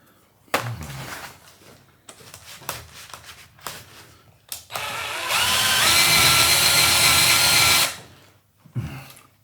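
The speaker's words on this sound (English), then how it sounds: "Faster drill, faster drill, faster drill." Some clicks and handling noises, then a power drill polishing an antique chair's beading with metal polish whirs loudly at high speed for a few seconds before winding down to more light clatter.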